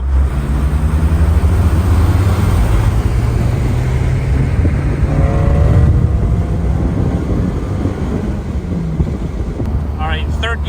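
A Honda S2000 with a titanium twin loop exhaust accelerating in 4th gear, a loud sustained low engine roar mixed with wind buffeting, rising in pitch midway, with a voice briefly speaking near the end.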